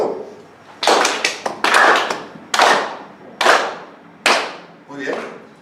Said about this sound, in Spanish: Yo voy a aplaudir, mirad para mí por favor, y vais a aplaudir conmigo de forma sincronizada